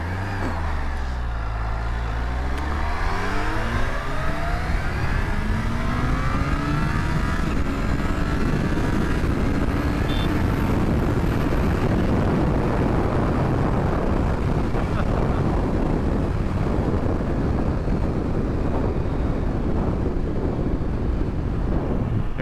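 A 2022 Kawasaki Ninja H2 SX SE supercharged motorcycle on the road, its engine note rising and falling through gear changes, heavily mixed with constant loud wind buffeting at the helmet microphone.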